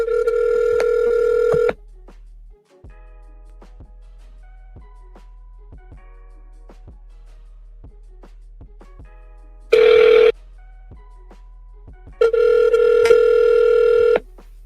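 International phone call to an embassy: a steady dial tone gives way to a long series of ringback tones, repeated buzzing rings separated by silence, loud and close as heard through the handset.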